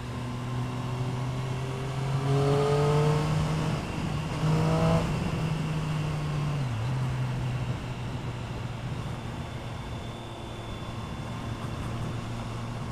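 A small motorbike accelerates hard through several gear changes, its engine note climbing and dropping with each shift, close and prominent over steady wind and road noise.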